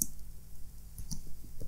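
A few soft computer mouse clicks sound close by against a quiet desk background, two or three brief taps spaced out over under two seconds.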